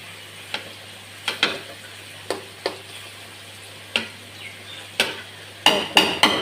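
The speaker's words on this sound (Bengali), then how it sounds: "তো সিদ্ধ করা শেষ হয়ে গেছে, এখন আমি এটা তেলে ভেজে নিচ্ছি" Boiled taro frying in oil with garlic and green chili, a faint steady sizzle broken by sharp spatula scrapes and clinks at irregular intervals, clustering near the end.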